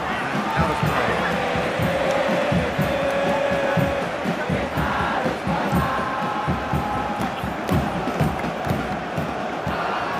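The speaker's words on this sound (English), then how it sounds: "Well, the crowd aren't happy. They wanted a shot." A stadium crowd in a virtual football match video game groans and murmurs in disapproval, a dense continuous roar of many voices filling the whole stretch, loud and steady with a commentator's voice partly over it.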